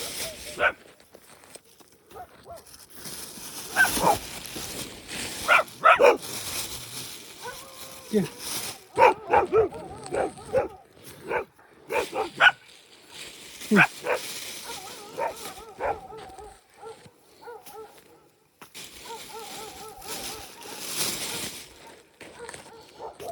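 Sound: dogs barking

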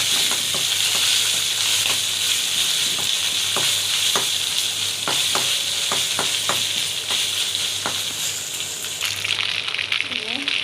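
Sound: spice paste frying in oil for beef biryani

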